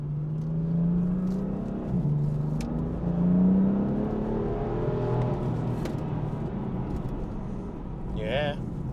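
The 3.0-litre, 426 bhp engine of a 2017 BMW M4 revs, its pitch rising and falling through a few swells before settling to a steadier drone, moderately loud and near.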